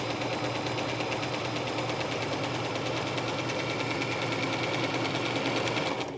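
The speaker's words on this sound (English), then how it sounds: "I'm gonna go over the exact stitch that we just did to reinforce it. And so we're double stitching here." A sewing machine double-stitches layered mask fabric, running at a steady rapid mechanical chatter, close and continuous from start to finish with no talk.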